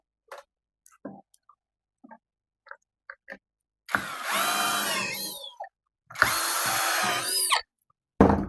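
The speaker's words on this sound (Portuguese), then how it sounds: "Vamos fazer a furação nessas duas aqui." A power drill whines through Kydex holster material in two sustained bursts of a few seconds each, loud and close, preceded by scattered small clicks and taps of handling on the workbench.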